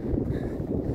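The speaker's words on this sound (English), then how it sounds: "It did get a bit windy up here" Wind buffets the microphone on a steep winter trail up Quandary Peak, a Colorado fourteener, as a continuous low rumbling roar across the whole second with no voices.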